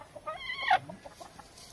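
A desi (country) chicken held for slaughter at home gives a few clucks, with one sharp squawk near the start followed by softer, scattered calls, close to the listener and alone.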